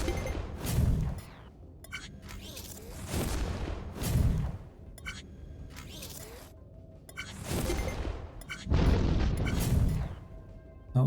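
Repeated missile explosions in the Infinifactory video game: heavy booming blasts land every few seconds with rumbling decay, some loud and some more distant, over a continuous low game drone.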